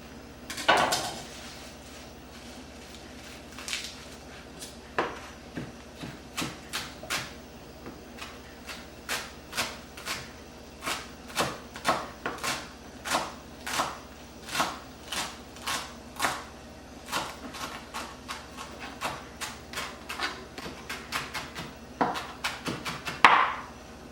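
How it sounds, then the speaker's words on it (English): Fresh parsley chopped with a knife on a cutting board, a long run of quick, evenly spaced, crisp knocks that speed into a steady rhythm, close and fairly loud with no talking. "Chop it all up."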